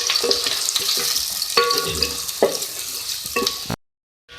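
Continuous sizzle of a large onion frying in a pan, broken by scraping stirs and clanks, before cutting to sudden silence at the end.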